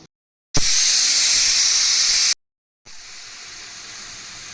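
A loud, sustained hissing whistle of steam blasts from a pressure cooker, stops abruptly, then a second whistle's hissing release starts, somewhat softer.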